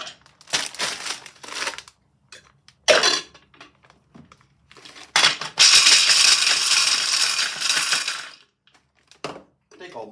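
A loud blender whirs in a sustained burst of several seconds, with hard rattling as almonds are chopped, preceded by short clattering knocks.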